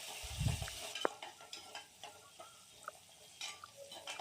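Curry leaves and a single green chili sautéing in a pan for Kongu-style rice and dal: a quiet sizzle under scattered spoon scrapes and clicks, with one sharp metallic tap near the start.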